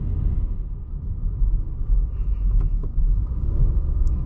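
Steady low engine and cabin rumble from a 120-horsepower Honda City, heard from inside the car with no clear surge of acceleration. The rumble stays fairly constant, and there is no talk.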